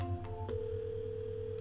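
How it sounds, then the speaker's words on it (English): Phone call connecting through a browser dial from a contact screen, with a couple of short tones followed by a long steady ringback or connecting tone, alone and fairly quiet. "Could select this and do a browser dial right here from the phone."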